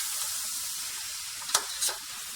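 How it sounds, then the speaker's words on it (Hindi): Vegetables with garam masala and pulao masala stirred in a pan for yukhni pulao give a soft, even sizzle, broken by two quick scrapes of the spoon near the end. "अब इन सब चीज़ों को हम बहुत ही अच्छे तरीके से मिक्स कर लेंगे"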